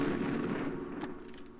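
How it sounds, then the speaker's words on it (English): A grenade launcher in Tomb Raider III fires one dull, booming shot that rolls off into a fading rumble, with no talk over it. "let's use the grenade launcher, because I'm pretty sure these guys take one grenade to kill"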